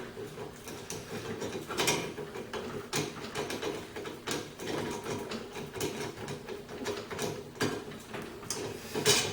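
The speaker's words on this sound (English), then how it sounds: "So now I'm going to put the front screw again, same lock washer, cap screw." A front cap screw with a lock washer is fastened while a Barco monitor is fitted into a Cinematronix cabinet, giving a run of close, irregular metallic clicks and ratcheting rattles.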